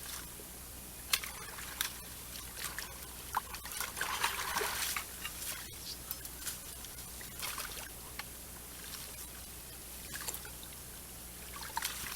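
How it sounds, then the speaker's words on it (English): Water running over concrete from a county ditch just cleared of an obstruction, draining a lake whose level had risen too high: a soft, continuous trickle and gurgle close by, with occasional small splashes and knocks. "You can go and see the water flowing over the concrete better."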